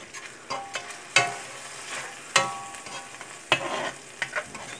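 Salisbury steak sizzles in a cast iron pan, with a constant close hiss broken by several sharp spatula scrapes and taps spaced about a second apart.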